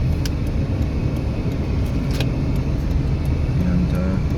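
Traffic on Las Vegas Boulevard heard from inside a driving car, a steady low road rumble with passing vehicles nearby and moderately loud throughout.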